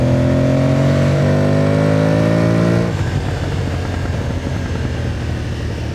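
Aprilia Tuareg motorcycle engine revving hard through rising harmonics, then cutting abruptly to a rougher, lower note about halfway as the quick shifter snaps a gear change; loud and close, with no talking.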